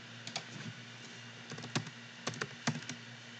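Keys clatter on a computer keyboard in short irregular clusters of crisp clicks, fairly close, over a steady background hum with no voice.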